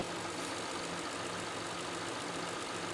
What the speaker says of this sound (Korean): 본넷을 열고 엔진 소리를 들어보았지만 상당히 조용하고요